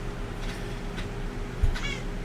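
Muffin the cat lets out a few soft meows at a relaxed pace, close by over a quiet hum.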